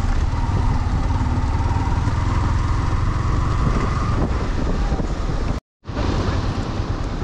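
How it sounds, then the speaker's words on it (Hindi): Cold wind blows across snowy, sub-zero mountain terrain in Spiti, a steady, loud roar of buffeting noise on the microphone with one brief cut-out near the end. "चल्ड हवा चल रहा है"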